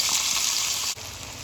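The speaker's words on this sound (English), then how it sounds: "we'll just go ahead and add this to the hot oil" Finely chopped onion, scallion and tomato hit hot oil in a pan and sizzle loudly and steadily up close, with a brief dip in the frying hiss partway through.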